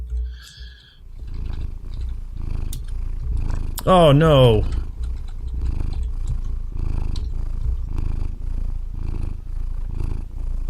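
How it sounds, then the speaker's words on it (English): A cat purrs in the Dwarf Fortress video game, a long drawn-out game sound running under steady background music, with a brief exclaimed voice in the middle. "That purr just lasts forever."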